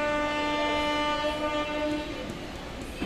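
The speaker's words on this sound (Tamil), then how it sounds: "நம்மளோட ட்ரெயினை சேலம் ஜங்ஷன்லேருந்து எடுத்து டிபார்ட் ஆகி போயிட்டுருக்கோம்." A Salem to Yesvanthpur unreserved express train departing Salem Junction, with a loud, sustained horn tone over a steady rumble of rolling wagons.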